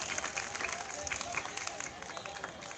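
A crowd at a motivational talk delivers sustained, even applause, a thick continuous patter of many hands heard from a distance.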